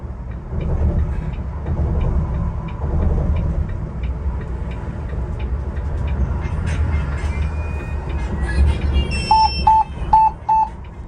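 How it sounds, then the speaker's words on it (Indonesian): A Volvo B11R double-decker bus rumbles along with a loud, steady engine and road drone, and near the end its proximity sensor gives a short run of four evenly spaced electronic beeps. "Kalau terlalu dekat itu sensornya bunyi."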